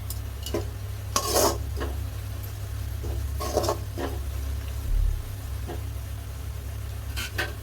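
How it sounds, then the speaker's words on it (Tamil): Onions and two green chillies sautéing in a pan for a prawn and drumstick curry, with scattered stirring scrapes and clinks over a low steady hum and faint sizzle. "வெங்காயம் வந்து நல்லா இந்த அளவுக்கு வதங்கினதுக்கப்புறமா 2 பச்சை மிளகாய் வந்து இதில் ஆட் பண்ணிக்கிறேன்"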